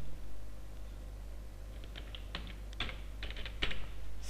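Someone types on a computer keyboard while building a school presentation, quiet at first, then scattered close keystrokes in short bursts over a steady low hum.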